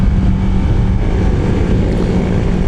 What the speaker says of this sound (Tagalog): Lakas ng exhaust eh.